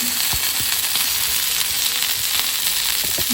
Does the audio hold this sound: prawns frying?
yes